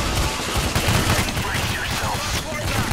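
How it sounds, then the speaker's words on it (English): Sustained machine gun fire in the heist shooter Payday: The Heist, a dense, continuous rattle of rapid shots filling the whole moment, loud and close, with game noise and voices mixed underneath. "Okay, I'm switching to machine gun."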